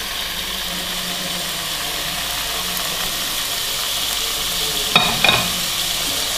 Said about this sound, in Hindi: अब इसको करेंगे फ्राई जी